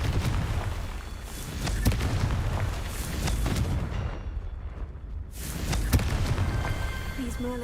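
Repeated booming blasts from the Confringo fire spell in Hogwarts Legacy burst through steady game noise, with several heavy hits spread across the stretch and a player speaking over them.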